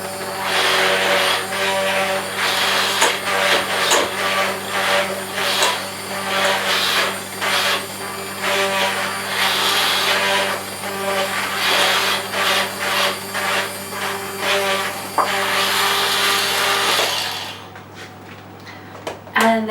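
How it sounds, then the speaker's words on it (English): Egg and flour whisked together for a Victoria sandwich cake, a brisk continuous scraping of the whisk against the bowl with a steady background hum, loud and close, stopping abruptly near the end. "and whisk that all together"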